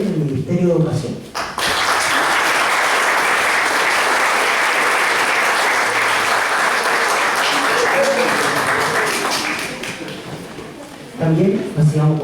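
Sustained, loud applause from an audience welcoming a speaker at a book launch, lasting about ten seconds, with a voice briefly audible at the start and end.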